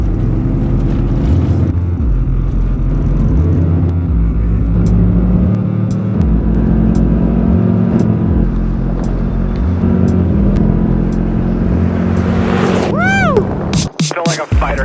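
An overland vehicle tears along a dirt road in central Idaho, its engine droning steadily with road rumble throughout, then a brief rising whoosh and sharp clatter near the end.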